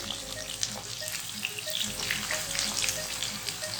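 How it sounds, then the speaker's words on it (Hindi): Two medium onions, finely chopped, frying in hot oil for arvi bhujia, a continuous dense crackling sizzle close to the pan with faint stirring underneath and no voice. "अब इसके अंदर 2 मीडियम साइज के प्याज हैं, मैं इसके अंदर ऐड कर रही हूँ"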